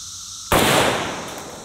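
A single loud AK-47 shot firing 7.62x39 full metal jacket ammunition into concrete, a sharp blast followed by a decaying outdoor rumble, heard alone.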